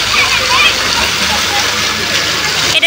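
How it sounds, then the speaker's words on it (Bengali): Water gushes strongly in a loud, continuous rushing hiss close by, steady throughout the short stretch without pause. "এই যে এত জোরে জোরে জল আসছে দেখছে।"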